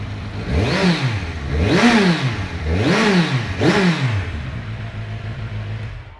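A 2017 Kawasaki Z1000 Performance Edition motorcycle engine revs four times in quick succession, each blip rising and falling sharply from a steady idle, loud and close, then settling back to idle.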